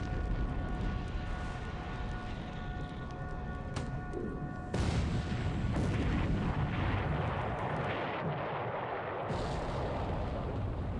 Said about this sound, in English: Now we're putting torpedoes into these things